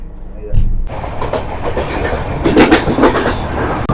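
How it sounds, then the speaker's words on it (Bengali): The Kanchankanya Express, running from Sealdah toward New Mal Junction, pulls away from a station with a steady close rumble and rhythmic clickety-clack of wheels on rails, heard from inside a carriage. "এবার ট্রেন ছেড়ে দিল আবার সেই পাহাড়ের উদ্দেশ্যে"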